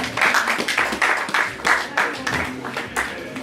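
An audience at an official gathering in Kinshasa claps steadily in repeated surges, loud and fairly near, with a voice talking over the applause.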